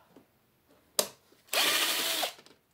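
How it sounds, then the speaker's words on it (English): A power drill backs screws out of an RCA television set, first in one short burst, then in a steady whirring run of nearly a second, with quiet pauses around it. "Get these screws off."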